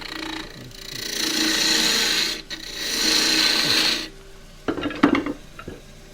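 A half-inch gouge cuts endgrain scrap wood on a lathe for a box, giving two sustained rasping, hissing passes that pause briefly between them, followed by softer scattered scraping and knocks.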